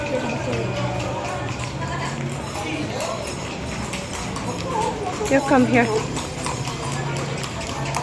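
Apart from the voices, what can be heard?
horses' hooves clip-clopping on Calle Crisologo street in Vigan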